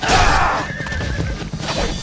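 A horse neighs loudly in a Ninja Gaiden Sigma fight against samurai riding ponies. A sharp whinny opens the moment and then gives way to rumbling game effects and a thud, with no talk.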